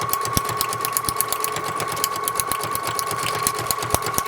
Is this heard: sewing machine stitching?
yes